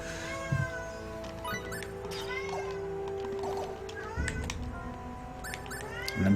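A pet cat meows in a home during gameplay of Star Ocean: The Last Hope on PS3, with several short harmonic meows spread across the stretch over steady game music and hum, faint talk near the end.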